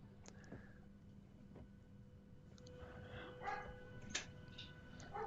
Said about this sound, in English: You might hear some dogs barking.